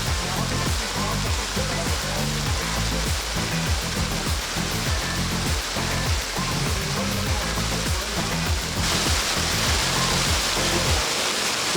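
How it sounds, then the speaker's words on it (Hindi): A waterfall in Nainital, India roars steadily with dense, rushing water noise, unbroken and loud throughout, with no voices. "पीछे झरना है और काफ़ी कूल है।"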